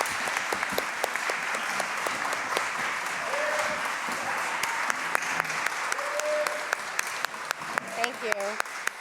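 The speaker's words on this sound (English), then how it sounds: "a round of applause for the at-large candidates" An audience at a New Britain candidates forum applauds the at-large candidates with loud, sustained clapping from many hands, plus a few voices and murmurs mixed in near the end.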